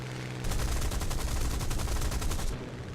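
Sustained machine-gun fire from a War Thunder vehicle's MGs, a fast steady rattle of rapid shots that starts abruptly, holds for about two seconds and cuts off, loud and close over a low engine rumble.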